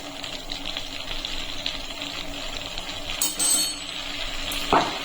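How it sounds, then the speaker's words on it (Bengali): Flour frying in melted butter in a pan over a low gas flame for white sauce, a soft continuous sizzle with light stirring and a couple of brief utensil clinks, close and steady, no talking. "এখন গ্যাসের ফ্লেমটা লোতে রেখে ভালো করে ময়দাটাকে কাঁচা গন্ধ যতক্ষণ না যাবে ততক্ষণ আমি ভেজে নেব"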